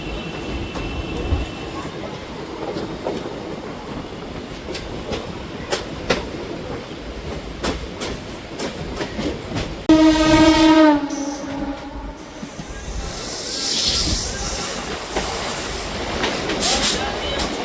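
The Ganadevta Express rolls into Howrah station at night with steady rumbling and clattering wheels, then a long loud horn blast sounds close by, followed by continued running noise.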